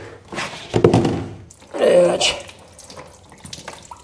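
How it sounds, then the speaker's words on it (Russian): Water splashes out in two short gushes with a dull clunk as a bolt is unscrewed from a 50-litre water tank, close by and fairly loud, with a voice present alongside. "Возможно, сейчас будет немножко воды."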